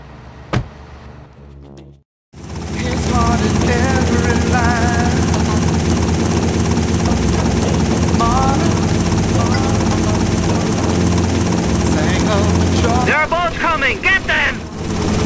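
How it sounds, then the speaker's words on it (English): Helicopter in GTA Vice City Stories, a loud continuous rotor thumping and engine drone starting abruptly after a short quiet moment, with voices speaking over it and a brief burst of other noise near the end. "Take my copter."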